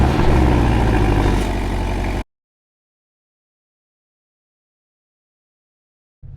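A Porsche 718 Boxster engine idles just after starting, a loud, low, steady rumble lasting about two seconds close by before cutting to silence.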